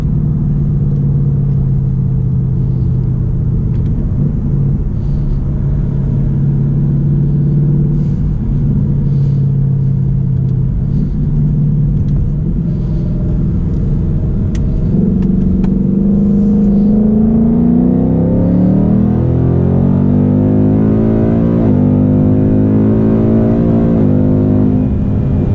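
A 2022 Ford Mustang GT drives on a sunny road, its engine a steady low rumble that swells as it accelerates, with rising revs clearly sweeping upward near the end.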